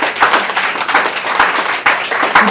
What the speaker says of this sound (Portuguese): Pode aplaudir mais forte.